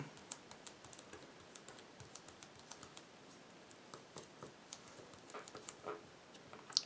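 Light, quick taps on paper pressed against an inked stamp in reflection stamping, a faint, irregular patter of small ticks spread over several seconds in a quiet room.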